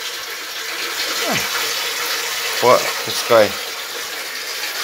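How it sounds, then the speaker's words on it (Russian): Cold water from a well pump pours into a big bath for nutrias, a steady rushing flow throughout, while a voice speaks briefly in between. "Скважина холодная воду подает."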